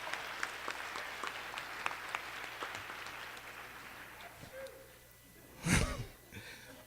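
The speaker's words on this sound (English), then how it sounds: "give them a round of applause" An audience at a panel discussion in Baltimore claps together for several seconds, fairly distant, the applause fading before a loud breathy sound and voices.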